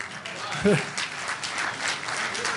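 A town hall audience gives a round of applause, with a scattered burst of clapping spread over the whole moment and a voice briefly heard.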